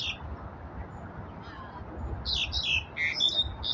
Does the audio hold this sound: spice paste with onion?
no